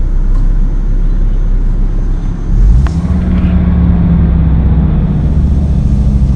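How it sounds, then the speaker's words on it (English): A 2000–2004 Volvo V70 engine runs after a battery replacement, a loud low rumble that steps up as it catches around the middle, then settles into a steady, slightly uneven idle. "Bit of a funny idle, don't worry, that'll sort itself out"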